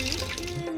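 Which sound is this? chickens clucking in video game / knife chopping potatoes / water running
water running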